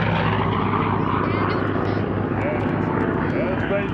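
Piston warbird engines from P-51 Mustangs and Corsairs at an air show, a loud steady propeller drone with deep rumble filling the whole clip, crowd noise and voices mixed underneath.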